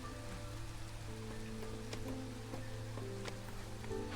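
Steady rain falls during the Drizzle season in the video game Against the Storm, a dense patter of drops on surfaces with scattered sharper taps, continuous and fairly close, with no voices.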